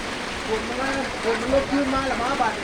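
Steady rain falls outdoors in rural countryside with a continuous hiss, while people talk over it.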